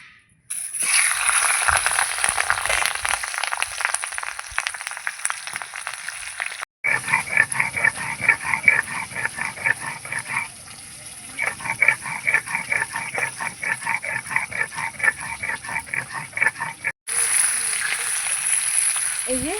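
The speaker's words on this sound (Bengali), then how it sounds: "এই যে মাছের মাথাটা ভেজে নেব" A catla fish head fries in a pan, giving a continuous crackling sizzle with rapid spitting pops, briefly interrupted twice and then resuming at close range.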